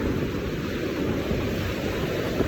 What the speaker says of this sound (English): it's really, really peaceful, even though there's big waves